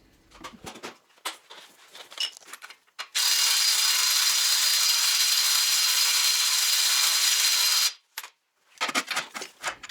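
A hand ratchet loosens the nut on a lower control arm of a 2015 Porsche, giving rapid bursts of close, crisp clicking at the start and end, with a long steady hiss between them.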